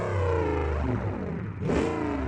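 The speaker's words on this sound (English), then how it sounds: "You do side pipes and a sport muffler. See what the sport muffler would sound like." Sport-muffler exhaust with side pipes on a car in the BeamNG driving game, a steady loud engine drone with layered harmonics that shifts pitch, dips briefly, then surges back up near the end.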